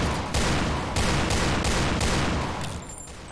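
Pistol gunfire in the game Piercing Blow: about five loud, close shots at a steady rhythm, each with a sharp onset and short decay, thinning out at the end.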